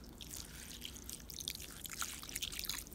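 Water dripping and trickling off a soaked IMCO Triplex lighter outdoors in the snow: a steady patter of small, close drips and splashes with no voices.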